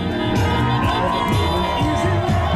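A street party crowd at a Brooklyn intersection cheers and shouts loudly and continuously, with many voices whooping close by.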